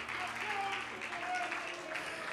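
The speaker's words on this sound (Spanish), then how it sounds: "Alguien se puede poner de pie y darle a Dios el mejor aplauso y la mejor alabanza" A standing church congregation applauds during a sermon, producing a fairly quiet, continuous patter of clapping while voices cry out over it.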